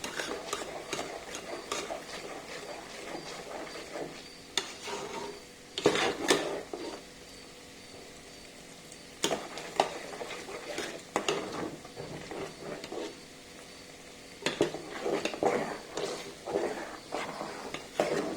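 Ghee heated in a large metal pot and stirred with a utensil, with repeated scraping and clanking strokes in bursts against the pot and a faint background sizzle, near and alone.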